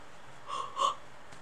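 A person yawns twice in quick succession, two soft breathy swells with the second slightly louder, close to the microphone against a quiet background.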